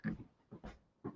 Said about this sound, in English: I got to grab my dog.